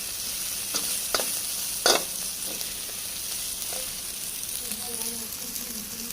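Chicken keema cooking with ground achari masala fries steadily in a pan, giving a soft, even sizzle with a few sharp clinks and stirring scrapes near the start.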